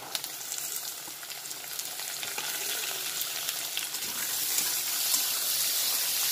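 Onion with carrot and beans frying in a pan on medium heat gives a steady, close hissing sizzle that swells slightly toward the end, with no talk.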